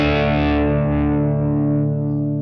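Electric guitar chord ringing out through a Fender Deluxe 5E3 amp model, thick and distorted with a rich midrange, sustaining loudly and decaying slowly over a couple of seconds with no talking.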